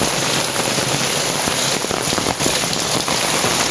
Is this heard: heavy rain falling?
yes